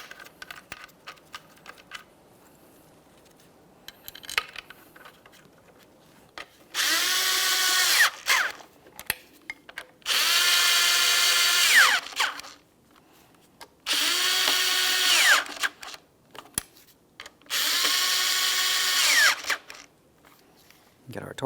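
A power drill drives the throttle body mounting bolts on a 2013-2020 Ford Fusion 2.0L I4 during intake manifold work. The drill whines up in four separate bursts of a few seconds each, with quiet handling noises and low voices between.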